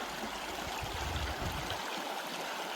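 The fast-flowing Black River in Arizona rushes steadily nearby, a dense, even splashing and gurgling of water with no voices.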